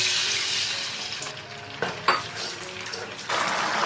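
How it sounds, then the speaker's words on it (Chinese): Sauce coming to a boil in a hot wok with a little oil, a steady bubbling sizzle broken by a few sharp clinks of a utensil against the pan, with no talk. "把我们的料汁放进来煮开"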